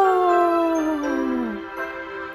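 In a children's animal nursery rhyme, a voice imitates a lion's roar with a single long, loud, drawn-out howling cry that slides downward in pitch and fades.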